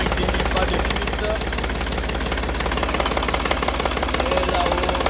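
A Renault E70 farm tractor diesel engine just after starting, idling loudly up close with a steady rapid knocking chug and mechanical clatter, unbroken throughout.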